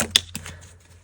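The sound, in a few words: tarot cards being shuffled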